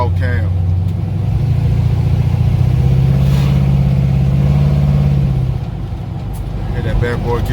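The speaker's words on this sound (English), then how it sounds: "Then y'all hear that engine, man. That 350 Chevy 350, Vortex heads, lifters," A Chevy 350 V8 with Vortex heads, lifters and a mild cam in a custom classic car revs up and holds a loud, throaty rising drone, then eases back, with someone talking over it.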